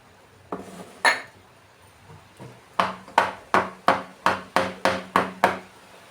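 Blended sugar-free diet ice cream mixture is spooned into a container in a home kitchen. A couple of scattered knocks give way to a steady run of about eight sharp, close clinks of utensil on the container.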